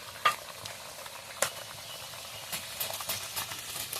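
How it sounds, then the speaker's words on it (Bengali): Semolina luchis dropping into hot oil, giving a soft, steady sizzle with a few sharp crackles and pops over a quiet, close background. "তেলটা ভালোভাবে গরম হয়ে গেছে, এবার আমি লুচিগুলো ছেড়ে দেবো।"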